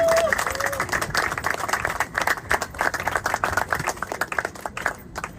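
Applause at a ceremony in Goma, with a crowd clapping in dense uneven bursts throughout and a voice briefly audible at the start.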